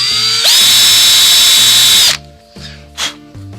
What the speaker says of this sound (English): 2mm drill bit, which is I think it's about 1/16 of an inch, and I'm just going to make a hole there